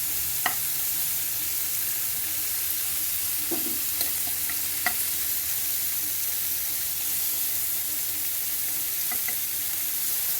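Rounds of bitter gourd frying in a pan, a constant close hiss of oil with a few sharp pops and light stirring taps scattered through.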